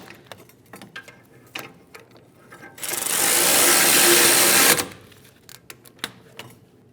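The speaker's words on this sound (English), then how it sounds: "Snug the bolts down." Caliper bracket bolts on a 2010-2015 BMW X1 xDrive rear brake being snugged down with a ratchet, a loud, continuous whirring burst of about two seconds, bracketed by scattered metallic clicks and taps close by.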